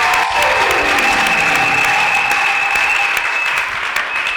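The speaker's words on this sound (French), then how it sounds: "Je vous applaudis." Loud, sustained applause and some cheering from a church congregation in Mahagi, Ituri, DRC, filling the space evenly under a steady ringing tone that carries across the clapping.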